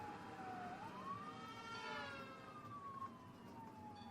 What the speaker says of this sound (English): Hear the sirens click on